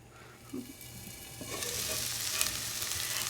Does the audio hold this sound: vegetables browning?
yes